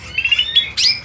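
A songbird at a stall in a bird market gives a quick run of bright, high chirps, then a louder burst of tweeting calls near the end, close and clear with no talk.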